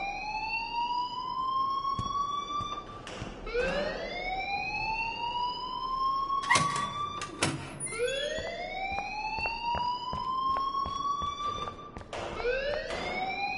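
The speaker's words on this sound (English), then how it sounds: "please turn off that alarm" A wailing alarm in the video game Life is Strange rises and falls in repeated sweeping tones, loud and steady, with scattered clanks between cycles.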